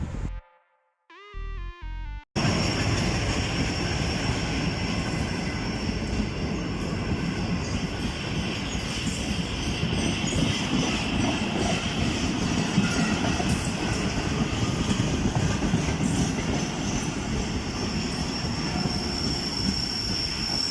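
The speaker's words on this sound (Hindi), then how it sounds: "16 डाउन कराची एक्सप्रेस बिन कासिम रेलवे स्टेशन पर एंट्री देते हुए हैरत अंगेज़ तौर पर आज इसमें GU 40 लोकोमोटिव के बजाय HGMU 30 लोकोमोटिव लगा हुआ है।" Karachi Express passenger train hauled by an HGMU 30 diesel locomotive rolls into Bin Qasim railway station near the sea port, a loud steady rumble of wheels and carriages with rail clatter continuing throughout after a brief horn-like tone at the start.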